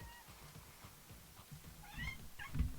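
A cat meows a few times, rising in loudness toward the end, against a quiet room background.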